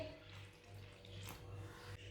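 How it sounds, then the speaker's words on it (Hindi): Water poured into a bowl of mixed besan (gram flour) dough for paratha, a soft steady trickle close by with no talk. "थोड़ा सा पानी डाल लेंगे"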